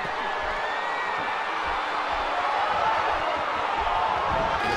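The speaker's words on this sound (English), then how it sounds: "See the crowd here in Los Angeles going bonkers for Juro." A dense, roaring video game wrestling crowd in a Los Angeles arena cheers loudly and continuously throughout, with a commentator talking over it.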